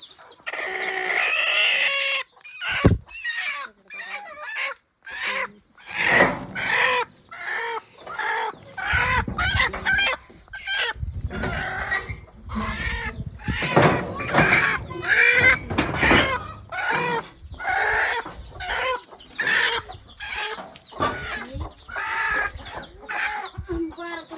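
A room full of grown hens clucking and squawking in dense, overlapping bursts, loud and close, with a brief sharp knock early on and a few crow-like calls mixed in.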